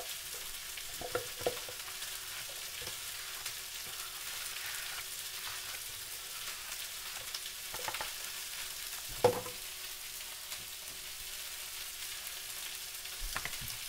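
Scallops sear in a hot pan with a steady, even sizzle that runs throughout, with a few soft clicks and one brief clatter of utensils near the middle.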